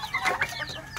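Four young turkeys, about three months old, call on a farm in a burst of short, clucking poultry notes. The calls are fairly close and follow one another quickly, with no talking.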